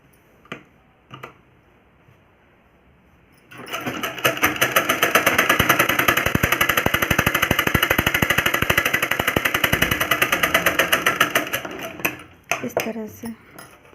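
Sewing machine stitching a hook strip onto a simple blouse, running loud and steady in a fast rhythmic whir for about eight seconds after a quiet start, then slowing and stopping with a few last clicks.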